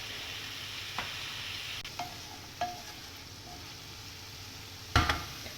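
Tomatoes and onions stirred in a pan for a cabbage spinach dry sabzi, a soft low sizzle under a few quiet spoon scrapes and taps against the pan, ending in a louder clatter.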